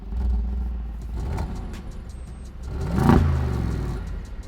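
Deep exhaust roar from a Mercedes-AMG G-Wagen SUV as the engine is revved twice, a rumbling swell early on and a stronger rise near the end, each falling back to a low, close burble.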